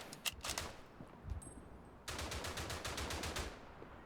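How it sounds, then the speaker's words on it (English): Rapid bursts of gunfire in the World War I shooter Verdun, loud and close, with a brief lull before sustained automatic firing resumes. "I see you are just firing wildly into the smoke."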